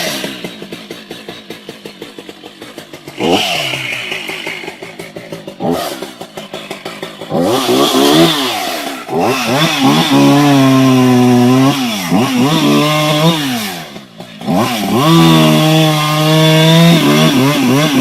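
A chainsaw with a decompression button is pulled and started, sputtering briefly before catching, then revs up and down in loud rising and falling bursts, cutting out for a moment and roaring back.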